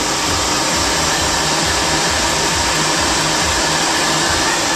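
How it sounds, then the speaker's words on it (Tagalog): A hair dryer blows steadily on a woman's hair before straightening, a loud, continuous close-up whoosh with a low fluctuating hum underneath, running without pause and with no talking. "Blower yung ano ni Lisa buhok bago i-plancha"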